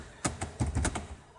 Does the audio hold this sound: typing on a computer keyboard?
yes